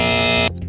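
A quiz show buzzer gives one loud, harsh electronic drone for about half a second and then cuts off sharply. A faint room murmur follows.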